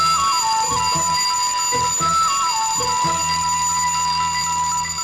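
An alarm clock rings insistently with a steady electronic tone and a repeating warbling chirp pattern, loud and close, under tonal background music from a Malayalam comedy film scene.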